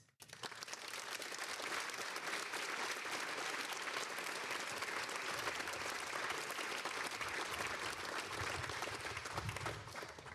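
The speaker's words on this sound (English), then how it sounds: "Let's give one more round of applause for our Hall of Fame honorees and our National Honor Society inductees" A large audience at a high school National Honor Society and Hall of Fame ceremony applauds honorees and inductees in one steady, dense round of clapping that holds at a fairly even level throughout.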